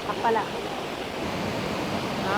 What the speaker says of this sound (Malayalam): തിരയടിച്ചിട്ട് വെള്ളം തേത്തേക്ക് തെറിക്കുന്നുണ്ട്